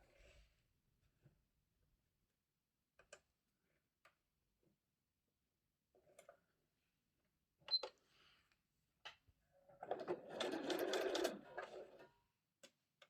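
A sewing machine runs in one loud burst of rapid stitching on a storage caddy base, lasting about two seconds near the end, after quiet scattered clicks and handling noises.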